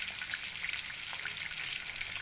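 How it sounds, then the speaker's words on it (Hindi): Sardine fish frying in oil over a medium flame, a steady, fine sizzle with soft crackling pops running evenly throughout at a moderate, close level. "मीडियम फ्लेम में हम फ्राई कर रहे हैं।"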